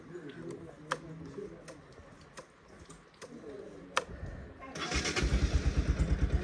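A motorcycle in freezing mountain air around 1°C near Marpha, Mustang, catches on the first attempt after scattered clicks and taps, then settles into a close, rhythmic pulsing idle.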